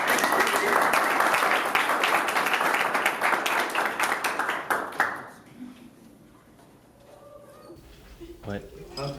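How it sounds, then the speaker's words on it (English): Audience clapping at a comics panel, loud and dense for about five seconds, then dying away into quieter room noise with a few scattered claps and shuffles. "Big round of applause, everybody, for our..."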